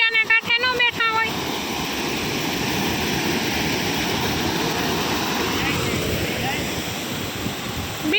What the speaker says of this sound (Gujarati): નદી જેવો જ દેખાવ આવે બેફામ પાણી જાય